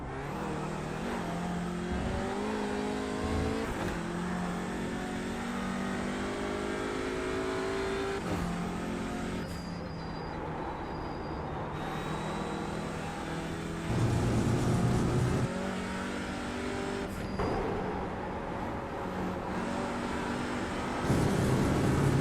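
Porsche and Audi race cars lap Lime Rock, their loud, continuous engine roar rising and falling with revving and gear changes, and louder surges as cars pass close by.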